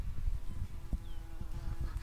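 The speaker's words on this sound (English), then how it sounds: "We're busy watching the bee here." A bee buzzes around wildflowers outdoors, with a low, steady hum and several soft pulses as it moves near the mic.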